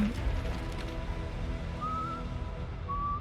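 A character whistles in the video game Death Stranding 2: two short, clear whistled notes rise over a low ambient game soundscape, the second following about a second after the first.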